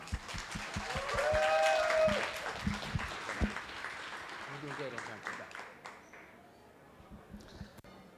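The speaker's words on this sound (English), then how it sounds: "everyone, give a huge round of applause to Eric Lau" A crowd applauds loudly, clapping swelling then gradually thinning out, with a brief tonal ping partway through.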